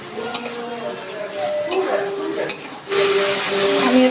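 Water poured into a pan of sizzling fried spice paste for a green banana kofta curry brings a sudden louder hiss and bubbling, after stirring and scraping over quieter frying.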